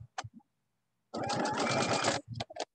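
A home sewing machine stitches pieces of quilt fabric in one steady, close burst of a little over a second, framed by brief soft clicks and handling noises before and after, with no voices.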